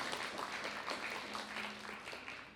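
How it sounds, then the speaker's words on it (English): An audience at a civic health summit applauds sponsors with steady, dense clapping from many hands, even and sustained throughout and heard from within the room. "Can we just clap for them?"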